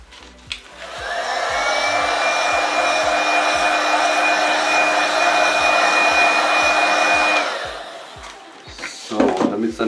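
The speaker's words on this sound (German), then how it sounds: "kurz mit dem Föhn drüber." A hair dryer blows over a freshly poured resin surface, starting abruptly and holding a loud, steady whine with a constant high tone for several seconds before cutting off, with light clicks and handling noise around it.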